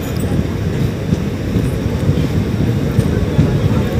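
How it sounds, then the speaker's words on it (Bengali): The Maa Tara Express rolls into Bandel station with a heavy, steady low rumble of wheels and carriages heard from inside the train, plus faint background voices. "ব্যান্ডেল স্টেশনে ট্রেন ঢুকছে এখন।"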